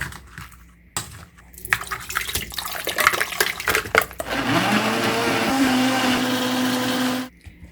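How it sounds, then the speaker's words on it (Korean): A blender whirs loudly and steadily for several seconds, grinding soaked chili peppers, after a stretch of clattering and handling noises. "적당히 뿌는 시간을 좀 뒀다가 믹서기에 갈아주면 돼요"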